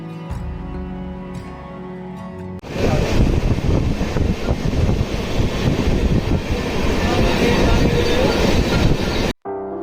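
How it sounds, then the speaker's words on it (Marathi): The Sinhagad Express pulls out of CSMT station in Mumbai, heard as a loud, close, continuous rumble and clatter of wheels that begins after a quieter opening and then cuts off briefly at the end. "तर आता सिंहगड एक्सप्रेसने CSMT स्टेशन सोडले आहे"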